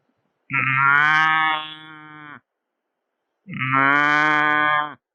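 A man imitates a cow mooing: two long, deep, drawn-out moos separated by a pause, close and clear with no other sound.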